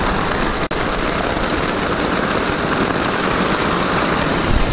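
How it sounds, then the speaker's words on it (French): Hail pelts a tent in a dense, unbroken drumming roar, loud and close throughout, with one brief dropout near the start. "Il y a la grêle qui tombe"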